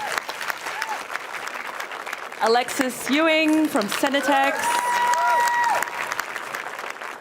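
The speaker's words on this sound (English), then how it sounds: "let's give her a round of applause" An audience at a tech conference panel in Melbourne applauds steadily as each panelist is introduced, a continuous wash of clapping under a presenter's amplified voice naming guests.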